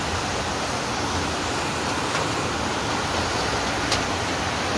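Rainwater left after heavy rain rushes and flows in a steady, broad hiss, continuous and fairly loud with no pauses.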